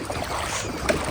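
A vehicle pushes through a rain-flooded road, making a steady close rush and wash of water with a brief surge near the end and no voices.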